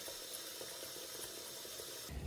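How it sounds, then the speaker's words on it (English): Tap water runs steadily into a cooking pot being filled for boiling tomatoes, a continuous close rushing stream that stops abruptly at the end, with no talk. "I'm filling this pot full of water"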